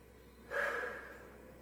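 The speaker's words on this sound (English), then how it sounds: "And a nice deep breath." A single deep breath drawn during a core workout, a breathy swell lasting under a second that rises quickly and fades, with no talk over it.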